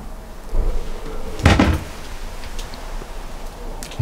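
Cupboard doors in a Dethleffs Alpa I 7820-2 motorhome bathroom open and close with a sharp bang near mid-clip and another knock at the end, over a soft steady room hiss.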